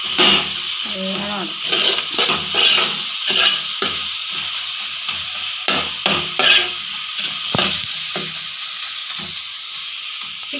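Tomatoes being mashed in a cooking pan over heat, a constant sizzle beneath repeated scraping and pressing strokes, with someone talking intermittently over it.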